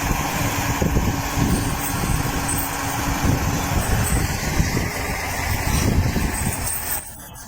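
A heavy truck hauling an oversized wind turbine blade along snowy back roads, its engine grinding and rumbling loudly and steadily close by, then easing off at the end, with no voices.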